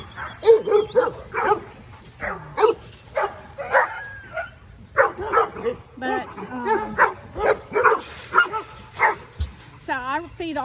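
Cane Corso puppies barking, yipping and whimpering in a dense run of short, close calls that keep overlapping, ending in a drawn-out wavering whine.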